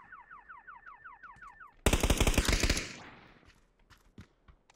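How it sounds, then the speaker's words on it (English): A car alarm in the video game PUBG whoops in a fast repeating warble, then a burst of loud rapid gunfire cuts in and trails off into a few scattered distant shots. "Who's set off a car alarm?"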